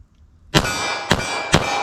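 Three loud, sharp metallic clangs of 9mm pistol rounds from a 5-inch barrel striking a steel target at 14 yards, evenly spaced about half a second apart with a ringing tail after each.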